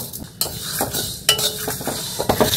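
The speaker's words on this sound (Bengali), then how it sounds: "সবগুলোকে আমি শুক কড়ায় ভেজে নেব" Whole spices (allspice-like shahmorich, mace, black cardamom, cloves, green cardamom, cinnamon and three dried red chillies) dry-roast in an oil-free kadai, with scraping stirs and sharp metallic clinks over a faint hiss, nobody speaking.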